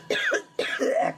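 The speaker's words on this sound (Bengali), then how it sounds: "এখনো কাশি হচ্ছে।" Two close, distinct coughs follow each other quickly from an adult, each a harsh, chesty burst with a brief pause between.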